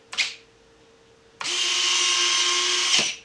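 Landing gear retracts on a Durafly DH100 Vampire MK6 RC jet whirring as they move: a brief click, then a steady electric servo-motor buzz lasting about a second and a half that stops abruptly, close and fairly loud.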